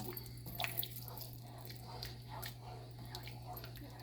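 A spoon stirs thick homemade chili in a pot, giving soft, wet squishing and dripping sounds that repeat in a slow rhythm, close and fairly quiet over a steady low hum.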